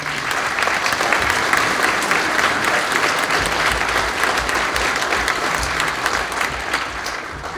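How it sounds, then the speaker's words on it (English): A large crowd at a junior high awards night applauds teachers and coaches in dense, steady clapping that fills the hall for the whole stretch. "Let's give them a round of applause"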